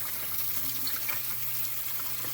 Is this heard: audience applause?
no